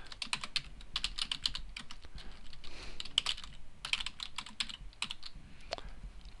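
Rapid, irregular keystrokes clatter on a computer keyboard while a quiz title is typed, the clicks bunching in short bursts with brief pauses between them, close and fairly quiet in a still room.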